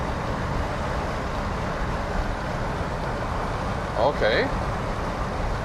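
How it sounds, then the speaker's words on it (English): Steady broadband wind roar fills the cabin of a Porsche 911 Targa 4S cruising at 100 km/h with a new wind deflector fitted, constant and loud throughout, with a brief spoken word near the end. "it's really loud in here. A lot of wind noise."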